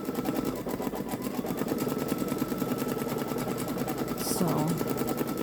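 A Babylock Solaris Vision Journey embroidery machine stitching a design, a fast steady mechanical whir and needle chatter running continuously and close throughout, with no pauses.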